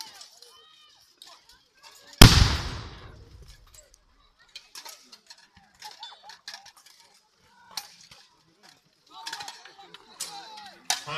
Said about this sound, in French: Le canon fait son œuvre également.